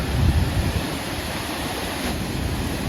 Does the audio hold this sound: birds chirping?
no